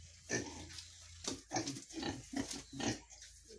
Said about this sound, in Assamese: আমি বৰ্তমান গাহৰিক খুৱাই আছোঁ।